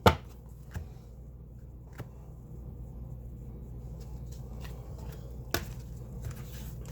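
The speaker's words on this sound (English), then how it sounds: "Let me chop that up a little better." Food chopped with a knife on a board: a few sparse, sharp knocks spaced seconds apart over a steady low rumble, with no talking.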